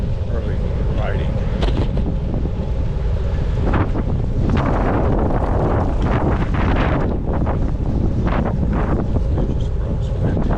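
Strong crosswind buffeting the microphone on a fall bike ride, a loud, continuous roaring rumble with gusty surges throughout.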